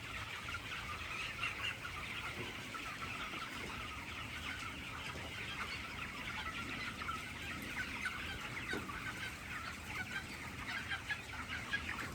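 Many chickens cluck and murmur continuously in a poultry farm shed, a dense, steady, fairly faint flock chatter with no voices over it.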